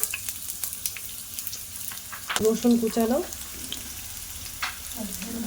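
Whole spices, pepper, chopped onion and ginger sizzle and crackle steadily in oil in a pan with scattered stirring clinks, while someone speaks briefly over it.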